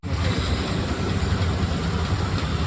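Steady low rumble of a train in motion, a continuous broad roar with dense low-frequency vibration throughout and no voices.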